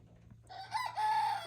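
A lone rooster gives a short, weak crow, a single thin call rising after a soft lead-in, fairly faint and with no one talking.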